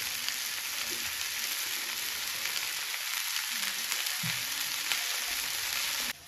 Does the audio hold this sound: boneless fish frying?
yes